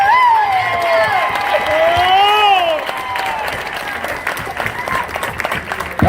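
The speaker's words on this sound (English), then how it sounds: "clap your hands real loud for them" A crowd at a Black Lives Matter protest in Laurel, Maryland claps and cheers loudly, with whoops and shouts rising over the applause before it thins out into scattered clapping.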